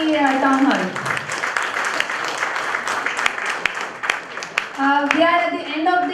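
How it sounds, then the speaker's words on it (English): Audience applause closing an MSME town hall session at a two-day ICAI conference, a steady wash of clapping filling several seconds, with a speaker's voice over it at the start and again near the end. "Please give a round of applause for this MSME town hall."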